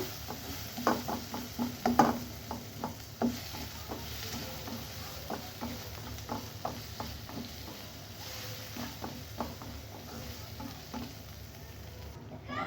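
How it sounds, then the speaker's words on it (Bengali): Onion and garlic frying in oil in a pan until browned, with a steady sizzle and repeated scraping stir strokes throughout, close and moderately loud, no talking. "আমি পেঁয়াজ রসুন দিয়ে দিচ্ছি এটাকে আমি একটু বাদামি করে ভেজে নিব"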